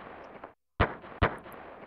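Fireworks at the Millennial Fair in the video game Chrono Trigger, a couple of sharp, loud bursts a moment apart after a crackling, fizzing lead-in, with no talk over them.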